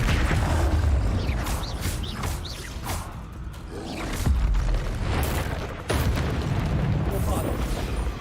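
Incendio fire spell bursts in the video game Hogwarts Legacy, loud booming whooshes of flame repeating over a busy rumbling battle, with other spell impacts and a voice talking throughout.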